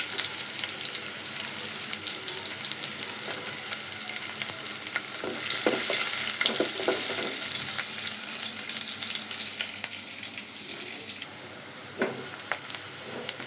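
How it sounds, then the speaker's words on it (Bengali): Chopped onions frying in a pan on a home stove, a steady close sizzle with occasional stirring scrapes and no voices. "পেঁয়াজটা ভাজা হয়ে গেছে,"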